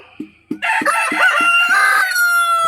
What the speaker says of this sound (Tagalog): Ito yung breeder natin guys. Rhode Island Red saka BPR.